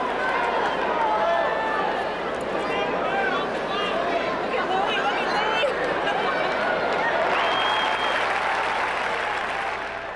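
A crowd of about 17,000 men, women and children at a basketball game, a continuous roar of cheering and applause from a large arena, steady and loud throughout with whistles and voices mixed in.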